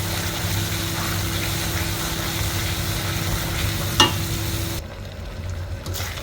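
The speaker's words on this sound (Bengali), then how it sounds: "মশলাটা পুরো ভাজা হয়ে গেছে, দেখেন।" Spice paste with poppy seed frying in a wok for a pointed gourd dish, a steady close sizzle with a brief clatter near the middle, quieter toward the end.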